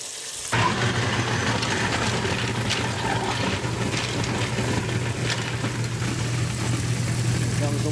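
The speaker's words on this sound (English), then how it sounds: "once the ice starts grinding up, I'm going to keep feeding the ice down in there" A kitchen garbage disposal grinds ice cubes as they are fed in, producing a loud, steady mechanical drone with a rough churning rattle that starts abruptly and continues unbroken for several seconds.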